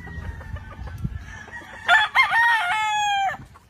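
A gamefowl broodstag rooster on a farm in the Philippines crows once, loud and close, after some quieter scuffling and low farm noise.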